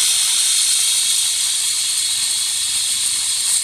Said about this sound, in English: look at all that steam